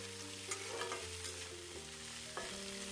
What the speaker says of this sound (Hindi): सभी को चम्मच चला के एक साथ मिला देंगे।